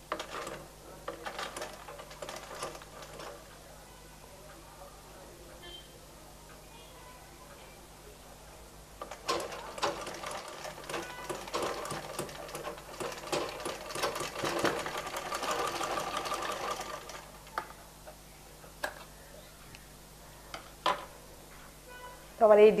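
A sewing machine stitches a baby frock in bursts, its rapid ticking mechanical clatter starting and stopping, with a long stretch of fast stitching in the middle, heard close between quiet gaps.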